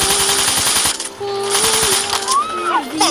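Rapid machine gun fire as a sound effect, loud sustained bursts rattling in quick succession, broken by a brief pause and mixed with whistling tones and other effects.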